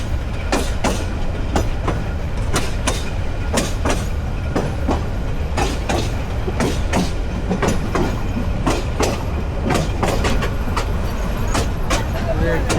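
Train on the Dhaka to Kishoreganj line nearing Gachihata station, heard close up with continuous heavy rumble and a steady run of sharp clickety-clack wheel beats over the rail joints.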